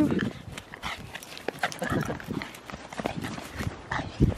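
An excited dog vocalizes close by with bursts of huffing, panting and yelping, mixed with scuffling movement and with people talking and laughing over it.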